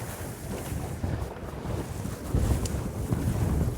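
Wind gusts roar into the microphone while windsurfing a carve jibe on open water, a loud steady buffeting that swells stronger toward the end, with no talk.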